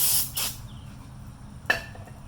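Brake cleaner sprayed onto a Mazda B2200 brake rotor: two quick hissing blasts close together, a pause, then one more brief spritz, against faint background noise.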